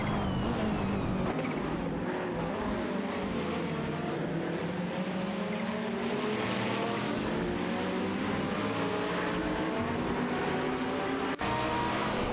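GT3 race cars, including a BMW M6 GT3 and a McLaren 650S GT3, roar through a racing video game, engines droning continuously with rising and falling pitch, with a sharp cut near the end.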